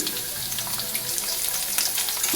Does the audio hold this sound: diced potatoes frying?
yes